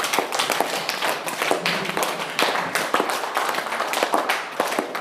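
Youth leaders standing at a meeting clap together in a dense, continuous patter of overlapping handclaps, steady and fairly loud throughout with no talking.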